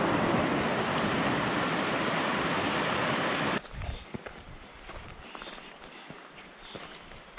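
Mountain river rushing during a hiking trek, a loud continuous broadband roar of flowing water that cuts off abruptly partway through, followed by quieter outdoor ambience with scattered clicks and rustles.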